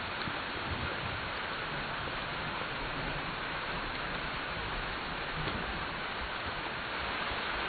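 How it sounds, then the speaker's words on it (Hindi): Steady heavy rain falls outside, a dense uniform hiss of drops with no breaks, loud and close, with no voices. "बारिश कब रुकेगी?"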